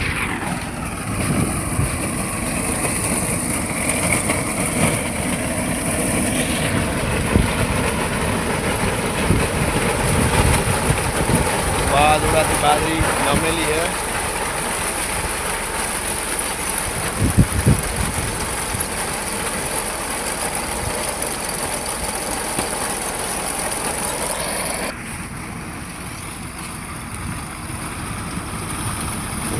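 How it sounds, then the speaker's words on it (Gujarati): A 9-foot pearl millet (bajra) harvesting machine works a summer crop in the field, a steady engine drone running throughout with a brief spoken phrase, the level dropping slightly near the end. "અને ખાસ આ 9 ફૂટનું મશીન હકાય છે અને મોટો પણ ફાયદો રહે."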